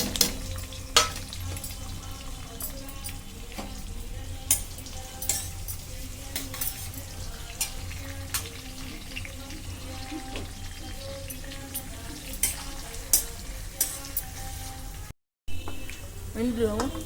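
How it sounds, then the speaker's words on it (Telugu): Onions, coriander and mint frying in a pan for veg biryani make a moderate sizzle with frequent sharp clinks and scrapes of a spoon stirring, close by. A brief gap of silence falls near the end. "కొంచెం కొత్తిమీర, పుదీనా వేసుకోవాలి. ఇందులో ఆనియన్స్ వేసుకోవాలి."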